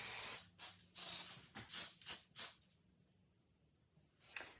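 Several short bursts of hairspray hiss in quick succession, then a pause and one final brief spray, close and clear.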